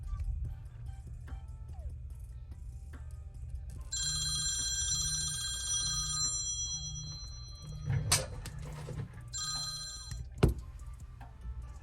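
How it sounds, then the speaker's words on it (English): A phone rings with an incoming call during a cracked-glass teardown of a Samsung S20 Ultra, two bursts of bright electronic ringing tone over a steady low hum, with a few nearby clunks and knocks. "Sorry about that, I had a phone call."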